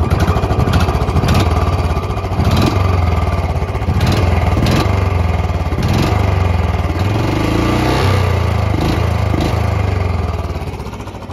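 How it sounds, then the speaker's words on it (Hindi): A Royal Enfield Standard 350 single-cylinder motorcycle starts up and settles into a steady, loud thumping idle close to the microphone, with a few blips of the throttle along the way. "तो अभी हम इस बाइक को स्टार्ट करते हैं और इसके साउंड सुनते हैं"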